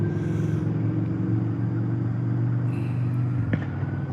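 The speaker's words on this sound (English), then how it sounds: "everybody's freaking driving around me all over the place" Cars driving slowly around on a road, a steady close engine rumble with a low hum and a passing vehicle whoosh near the end, no talk.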